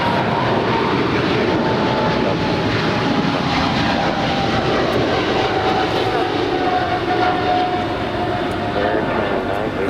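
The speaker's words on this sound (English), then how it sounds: "It's Air China Flight 988 departing to Tianjin. It's a 3-year-old 777-300 ER." Air China Boeing 777-300ER, a three-year-old heavy jet, taking off from LAX with a loud, continuous engine roar that holds steady throughout.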